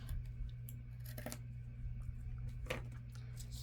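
Scissors snip through paper while a double hanging tag is trimmed in a craft session, several short crisp cuts in irregular rhythm, close up and fairly quiet over a steady low hum.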